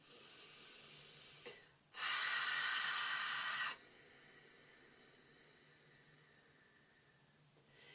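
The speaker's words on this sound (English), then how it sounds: "allow that breath to get forced out through the nose" Ujjayi breath forced out through the nose: one loud, rushing nasal exhale lasting nearly two seconds, close and alone, with a faint breath just before it and quiet room hiss afterward.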